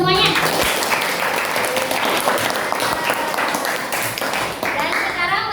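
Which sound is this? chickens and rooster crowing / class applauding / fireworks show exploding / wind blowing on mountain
class applauding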